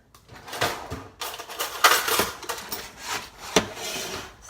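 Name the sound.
taking baked acorn squash out of the oven and flipping it over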